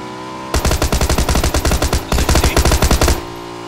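A Thompson submachine gun fires in PUBG: two sustained, rapid automatic bursts with a brief break between them, loud and close, each shot a sharp crack in a steady rhythm, with no talking over it.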